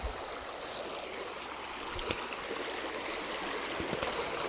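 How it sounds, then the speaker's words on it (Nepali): A small river stream flows steadily in the rainy season, its broadband rushing and gurgling heard close and continuous throughout, with no voices. "यही सानो छ खोला धेरै ठुलो छैन"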